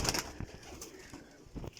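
A Kamagar pigeon of an old breed line coos softly in low, rounded pulses, faint and close, with light rustling between calls.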